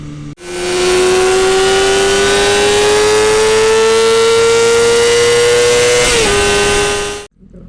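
A 600cc sport motorcycle engine screams at sustained high revs, a loud close steady whine rising slightly in pitch over about six seconds, then dipping briefly before cutting off, alone with no talk.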